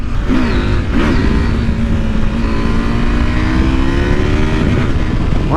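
A 2024 KTM 890 SMT motorcycle in track mode with sport throttle accelerating hard on an open road, loud continuous engine roar rising in pitch through the gears, close and dominant throughout.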